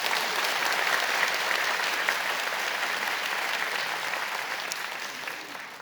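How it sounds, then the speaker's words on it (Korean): A church congregation claps to welcome a newly arrived minister during Sunday worship, a broad even applause that holds steady for several seconds and slowly tapers. "여러분 크게 박수로 환영하시지요"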